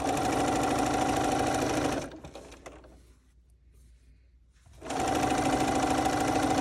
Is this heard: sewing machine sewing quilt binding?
yes